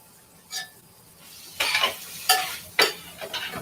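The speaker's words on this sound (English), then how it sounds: "Just kind of saute them up. Get the veggies softened a little bit." Vegetables for a curry sautéing in a pan, heard as four short, separate bursts of sizzling and stirring scrapes over a quiet background.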